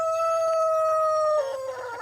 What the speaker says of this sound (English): You see all the chickens coming.